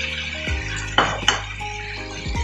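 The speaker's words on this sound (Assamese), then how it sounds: "এতিয়া মই ইয়াত চিকেনখিনি দি দিছোঁ।" Chicken going into a pan of spiced oil for chicken do pyaza, with metal clinks and scrapes of a utensil against the pan, two sharp knocks, and a soft sizzle underneath.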